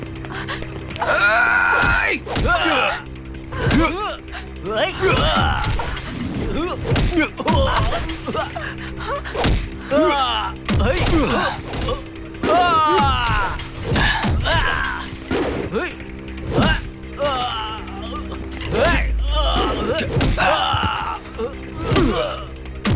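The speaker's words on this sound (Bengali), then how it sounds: "এই যে একটা লোককে এতগুলো লোক মারছে, দেখতে পাচ্ছ না?" Several men beat one man in a Bengali-dubbed action film fight scene, with repeated heavy punch thuds, groans and shouting voices in an irregular, chaotic rhythm throughout.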